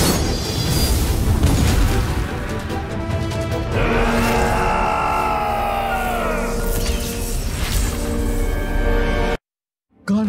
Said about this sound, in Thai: การระเบิดระหว่างการต่อสู้ทำให้ท่านผู้กล้าเจ็บหนัก